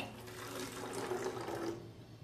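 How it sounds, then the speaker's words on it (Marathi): One cup of water poured from a cup into a bottle, a steady splashing trickle for about two seconds indoors, faint and close, tapering off at the end. "1 कप पाणी ह्या बॉटलमध्ये आपण ओतून घेऊया"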